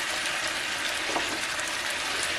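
Vegetables sautéing in a pan give a steady, dense sizzle that holds evenly from start to finish, close and fairly loud, with nobody talking.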